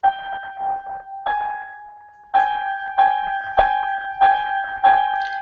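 Two clashing notes sound together repeatedly, each struck, decaying and then restruck in uneven rhythm, clear and close with no talking.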